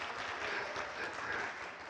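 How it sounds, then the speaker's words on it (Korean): An audience at the 2023 Gwangju Democracy Forum claps in steady, dense applause for a speaker's introduction, an even wash of many hands at moderate distance for about two seconds. "많은 박수 부탁드립니다."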